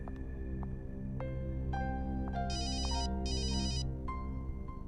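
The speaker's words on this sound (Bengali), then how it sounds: "দেখে নাও, আমি জানি কার ফোন।" A mobile phone ringtone plays two bright repeated electronic bursts over a low sustained musical background, fairly quiet and brief.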